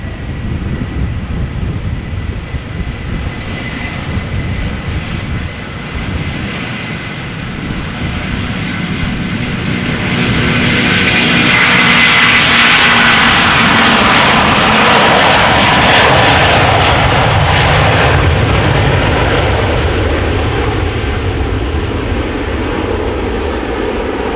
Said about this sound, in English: And spooling up. Delta Airlines A330 flight 135 going to Detroit, Michigan.